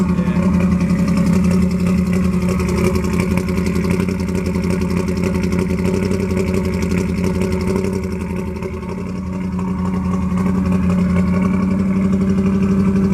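A 1971 Ford F-100 small-block engine idles steadily close by with a misfire, its low rumble uneven and slightly stumbling, with a brief dip partway through.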